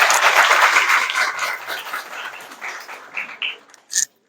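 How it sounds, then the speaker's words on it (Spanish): Applause from an audience at a disability justice event honoring a sign language interpreter, starting full and dense, then gradually thinning to scattered claps, ending with a short bright sound. "quiero que se le dé un aplauso a Eric Ramírez"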